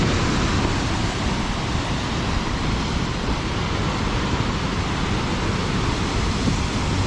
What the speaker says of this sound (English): there's a waterfalls right there